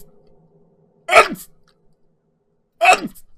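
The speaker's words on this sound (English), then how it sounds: "Am I ever going to be rid of sneezing?" Two sharp, explosive sneezes about two seconds apart, each a short burst with a trailing gasp, close and loud against near silence in a light-hearted blooper setting.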